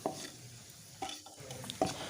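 Ground spice paste added to a pan for a vegetarian pea ghugni is stirred, giving a few faint, brief scraping and sizzling touches against a quiet background.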